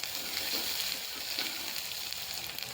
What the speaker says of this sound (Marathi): भाजून घ्यायचं व्यवस्थित छान असं.